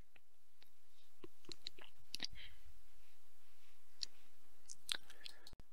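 Sharp, scattered clicks of a computer mouse, close and fairly faint, coming irregularly in small bursts over a quiet background.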